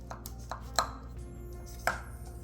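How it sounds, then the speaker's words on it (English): A knife slices through a baked apple pie, making a few quiet, crisp cutting taps spaced irregularly, with two sharper strikes standing out against a soft background. "Cut another slice here."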